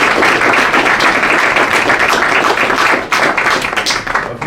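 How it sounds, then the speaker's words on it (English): Audience applause rings out for the speakers at an Omega Psi Phi fraternity Achievement Week event, a dense, steady wash of many hands clapping that thins slightly near the end. "we just have one more round of applause for all of the speakers"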